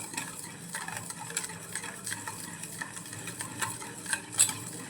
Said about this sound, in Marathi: इथे आपण अर्धा चमचा आमचूर पावडर घेतले, ती घालूया आणि छान याला एकजीव करून घेऊया